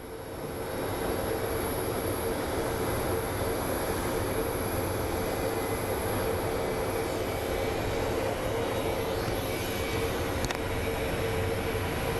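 A Volaris passenger jet airliner roars steadily at Phoenix Sky Harbor International Airport, a loud, continuous broadband engine rumble with a faint whine that holds without letup.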